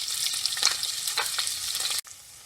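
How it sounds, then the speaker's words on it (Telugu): Curry leaves, green chillies and onions spit and crackle in hot oil in a pan, a bright, busy sizzle with sharp pops close by, cutting off abruptly near the end to a quieter hiss. "ఇప్పుడు దీంట్లో మనం కొంచెం కరివేపాకు, గ్రీన్ చిల్లీ, అలాగే ఆనియన్స్ వేసి ఫ్రై చేసుకుందాము."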